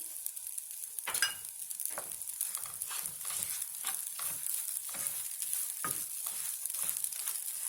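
Bulgur sautéed with butter in a pan, giving a soft steady sizzle broken by repeated scraping stirs at an irregular rhythm, close and fairly quiet, with no talking.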